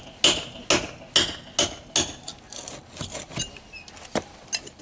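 Loose stones are knocked and pried off stone steps during repair: a series of sharp, close clacks and taps in an uneven rhythm, with gritty scraping between the hits and no talking.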